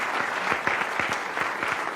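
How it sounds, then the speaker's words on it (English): Audience at a neuroscience symposium giving the speakers a round of applause, dense steady clapping with distinct individual claps audible throughout, moderately loud and alone. "Maybe give them one extra round of applause."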